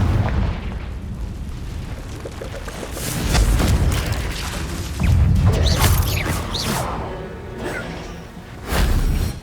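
Explosion spells in the video game Hogwarts Legacy, with deep booming blasts and whooshes that rise and fall in several heavy surges over a busy, rumbling game soundscape.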